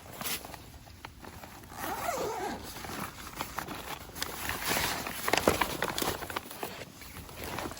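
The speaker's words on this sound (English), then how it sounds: "So unzip it." A zipper is pulled open on the soft carry bag of a Harbor Freight folding camping table, a close, steady rasping zip that runs for several seconds with some handling rustle and no talking.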